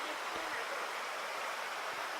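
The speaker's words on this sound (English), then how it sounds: "There's quite a bit of water in this creek." Creek water rushing along a Hawaii hiking trail on the Manuawili Falls hike, a steady close hiss of flowing water with a faint low thump or two underneath.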